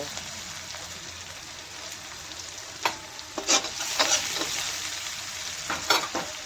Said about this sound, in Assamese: অকণমান টাইম এনেকৈ ভাজিব লাগিব